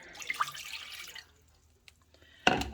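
A cup of water poured out while making syrup for baklava: a soft, close, steady splashing stream for about a second, then quiet, with another short watery burst at the end.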